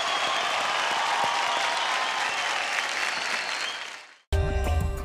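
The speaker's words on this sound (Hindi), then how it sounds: "एक बार जोरदार तालियां हो जाए आदि भैया के लिए" Loud, sustained applause from a television singing-competition audience, a dense steady roar that fades out near the end before music cuts in abruptly.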